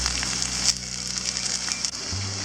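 Mustard seeds, dried chillies and sliced bitter gourd sizzling in hot oil in a pan, a steady close hiss with faint crackles and pops throughout, no talking.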